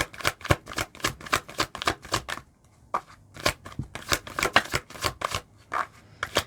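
Tarot cards shuffled by hand in quick, crisp riffling bursts, with a short pause before the flicking resumes; close and fairly quiet, with no talking.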